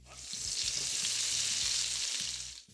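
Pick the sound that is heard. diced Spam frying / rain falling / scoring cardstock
diced Spam frying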